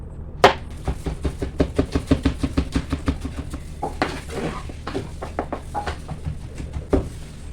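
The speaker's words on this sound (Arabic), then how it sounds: "وهيك قطعناهم هلا البندورات ناعمين" A knife chops peeled tomatoes finely on a board for traditional Lebanese tabbouleh, a fast steady series of close, crisp taps with a short pause partway, then a few more cuts, no talking.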